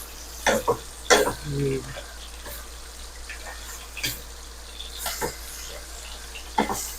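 Bitter gourd (ampalaya) being stirred in a pan, with a few scraping and clattering strokes over a faint steady sizzle; the strokes come in short bursts separated by quieter frying.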